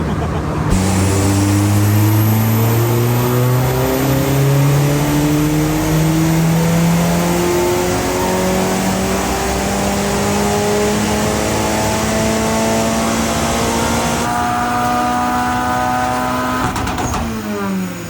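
A loud Mitsubishi Lancer Evolution engine accelerates steadily, pitch climbing through a long pull with a gear change, heard close from inside or nearby.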